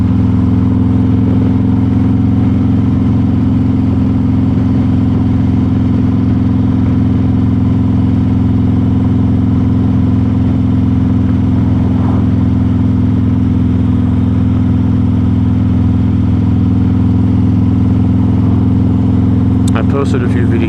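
A Harley-Davidson Road Glide ST motorcycle cruises through a mountain town, its engine holding a loud, steady, unbroken drone for the whole stretch. A rider's voice talks over it.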